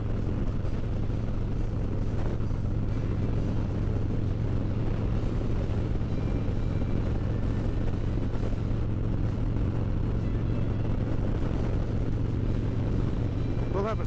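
Harley-Davidson Road Glide with a Special 114 engine and power cam being ridden, a steady, loud engine drone mixed with wind rush, continuous throughout.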